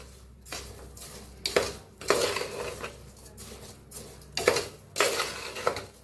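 A metal spoon scrapes and clanks against a pot while rice is dry-roasted with salt, several loud scraping strokes in an irregular rhythm, up close with no speech.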